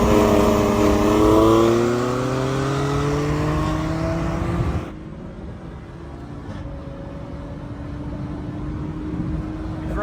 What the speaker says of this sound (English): Let me try brake boosting,